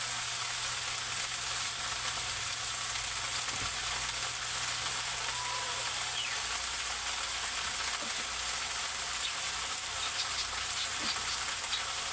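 Vegetables fry in a pan with a steady, close, dense sizzle that crackles evenly and continuously, with no talking.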